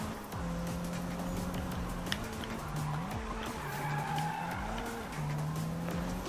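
A race car engine in the Need for Speed video game drones steadily, its pitch rising and dropping with repeated gear shifts. Tire squeals and skids run throughout at a constant, fairly loud level.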